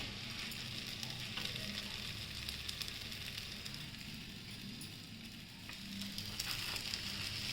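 Holige, a sweet flatbread stuffed with gram flour and peanut filling, sizzles steadily on a hot griddle, a soft continuous frying hiss with faint crackles, close by and alone.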